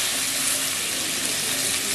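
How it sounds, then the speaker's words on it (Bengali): Paneer pieces fry in hot oil with turmeric, producing a steady, dense, close sizzle that holds evenly without pause. "তো এতেই দেখো পনিরটা ভাজা হয়ে যাবে"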